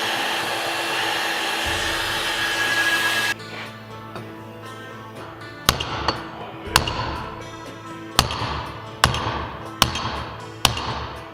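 A heated wheel is hammered down onto a shaft on a big block Ford F250. A steady torch-like roar gives way to six or seven sharp, ringing metal hammer blows, spaced unevenly and heard close up.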